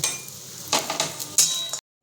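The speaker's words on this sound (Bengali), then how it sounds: "প্রথম সর্ষের তেল দিয়ে প্রথমে বড়িটা ভেজে নেবো" Lentil dumplings, bori, sizzle in hot mustard oil, with a steady crackle under sharp clinks and scrapes of a spoon stirring in the pan before the sound cuts off abruptly.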